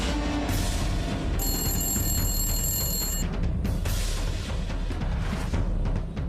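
Telephone ringing unanswered in a TV serial scene, a bright ringing tone sounding in the first half over loud dramatic music with pulsing beats.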